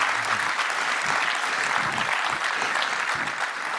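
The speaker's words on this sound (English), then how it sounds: "So a round of applause for Niels," A conference audience claps steadily, a dense, loud and even round of applause heard close with no talk.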